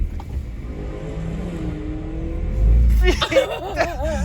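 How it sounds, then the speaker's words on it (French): A Porsche Cayenne GTS engine accelerates with a deep, rising rumble that swells louder toward the end, while someone speaks over the latter part. "Il est beau le GTS, hein. Putain, il fait un de ces bruits."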